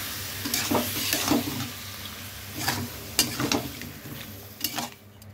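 Ground cumin and sour yogurt sizzle in a hot pan while being stirred, with steady frying hiss and scraping stir strokes throughout, close and moderately loud.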